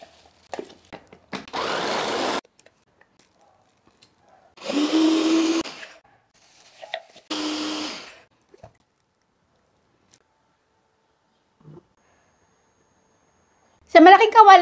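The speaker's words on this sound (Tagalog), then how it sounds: "same lang din naman gagamitin natin yung chopper" An electric food chopper whirs in three short bursts separated by pauses, with a final burst at the end; someone talks in between.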